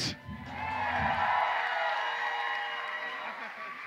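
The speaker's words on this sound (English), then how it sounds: "Crowd, make some noise for your volunteers" A teen poetry slam audience at a theater cheers and applauds for the event volunteers, a broad sustained wash of crowd noise that swells after a brief start and holds steady before easing slightly.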